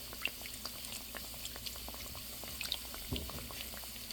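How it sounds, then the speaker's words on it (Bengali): Snacks fry slowly in oil, a faint, soft bubbling sizzle with light scattered crackles, quiet and steady with no voices. "এভাবে আমি আস্তে আস্তে ভেজে নেব"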